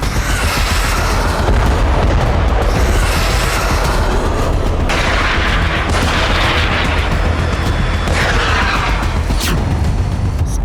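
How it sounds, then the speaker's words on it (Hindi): Rocket attack on Tel Aviv, heard as loud, continuous rumbling booms with sharp blasts and a dense roar throughout, no voices. "तेल अवीव पर रॉकेट अटैक"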